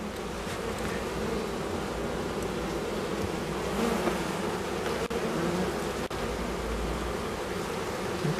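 Buckfast honeybees at an open hive make a dense, steady, close buzz that holds level throughout, with a couple of faint clicks.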